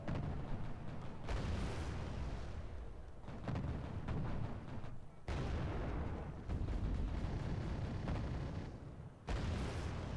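Video game battle gunfire, a dense, loud wash of rumbling shots and booms that continues throughout, broken by brief abrupt drops and restarts.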